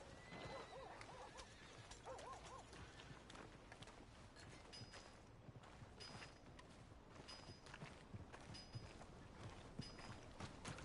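A horse in the Red Dead Redemption 2 video game whinnies over a continuous patter of hooves. The game sounds play at low level under constant background noise.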